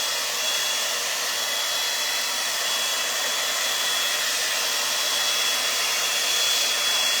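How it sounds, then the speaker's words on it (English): A skinny, lightweight hair dryer blows steadily at full power, a loud, close, unbroken rushing airflow with a faint high whine, running alone without speech. "Oh yeah, that skinny hair dryer is like"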